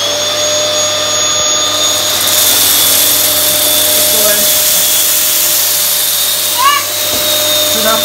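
A Dyson DC23 Motorhead upright vacuum cleaner drones continuously at close range while making a pass over hair on the floor, with a faint voice in the background.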